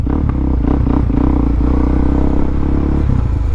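A Honda Grom motorcycle engine runs steadily nearby, a continuous low rumble with light mechanical clatter and no clear revving.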